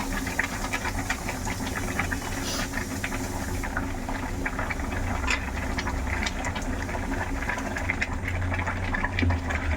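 Tempering seeds sizzle and crackle in hot oil in a pan for a curry, a steady dense frying hiss with scattered pops throughout, close and continuous.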